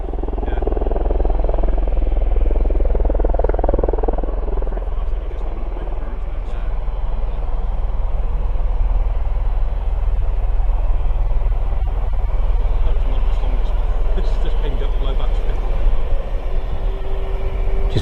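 A V-22 Osprey tiltrotor lifting off at RAF Mildenhall, its turning rotors making a loud, continuous, heavy thrum that holds steady throughout, with a voice talking over it.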